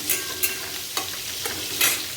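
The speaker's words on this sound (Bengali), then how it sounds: "এটা আমি এটা ভালো করে ভেজে নেব। এটা আলুর জন্য, আর এটা পটল ভাজা।" Potato and pointed gourd fry in a pan over a gas flame, a steady sizzle broken by several sharp scrapes of a spatula stirring them, close and alone with no talk.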